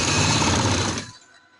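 A sewing machine runs fast and loud up close, stitching fabric along a paper strip for a trouser design, then cuts off and trails into quiet.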